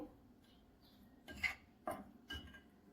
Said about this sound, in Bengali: পরিমাণ মতন লবণ দিয়ে দেব একসাথে মিশিয়ে নেবো